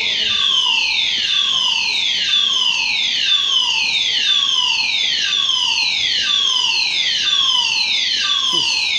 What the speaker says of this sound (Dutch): Net sirene test.